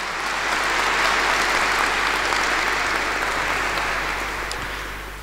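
Loud, steady applause fills a charity Christmas and New Year concert hall in Bytom as the audience welcomes a guest named Nina, a dense wash of clapping holding throughout and easing slightly at the end.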